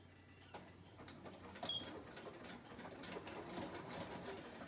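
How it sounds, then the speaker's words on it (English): A sewing machine stitches a small zigzag along fabric, a faint, steady, rapid mechanical whir with fine ticking that runs continuously. "I'm going to run a quick zigzag on here."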